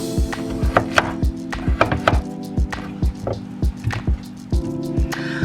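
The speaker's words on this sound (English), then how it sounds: "So I'm going to continue to chop up my potatoes" Knife chopping potatoes on a board, a run of sharp, close, irregular thuds, some quick and clustered and others spaced apart, with no talking.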